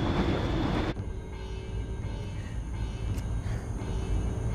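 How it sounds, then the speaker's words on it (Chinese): A train passes at night near a disused area, with a steady low rumble and rolling noise that holds throughout, fairly close and with no voices. "好咗，火车嚟噶"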